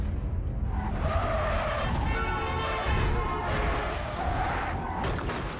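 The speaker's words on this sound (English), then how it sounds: "The crash involved 2 cars." Cars on a deserted road skid with a long tire screech and grinding, close and loud, with a crash-like burst of noise partway through and no talking.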